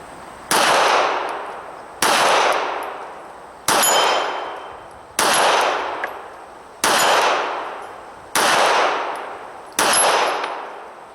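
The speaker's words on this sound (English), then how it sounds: "12-inch plate, and we're going to see if I can hit the darn thing. 25 yards, Glock 26." Seven Glock 26 pistol shots ring out at a steady pace, each a loud sharp crack followed by a metallic ring as a 12-inch steel plate is struck at 25 yards, with a decaying echo between shots.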